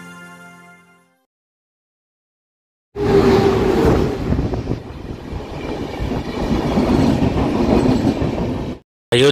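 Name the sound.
train running on rails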